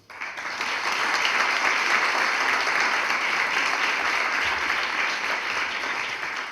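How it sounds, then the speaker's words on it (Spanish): An audience at the Teatro Solís during the Semana de Arte Trans 2016 opening bursts into steady, dense applause that stays loud and even for about six seconds. "Maru Sayas por el colectivo Ovejas Negras, y para ellas dos pido un aplauso."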